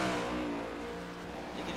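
Next Gen Cup Series stock car engine in a sim racing game at Watkins Glen International, a loud steady roar at speed with dense harmonic drone, slight easing in intensity, no talk.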